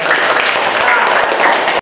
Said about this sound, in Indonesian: Bagus, tepuk tangan dong untuk kita.